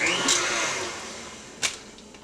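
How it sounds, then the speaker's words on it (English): An electric mixer whirs through cake batter, a loud steady high whine that fades gradually, with a brief clatter near the end; no speech. "add the remaining ingredients and whisk until smooth"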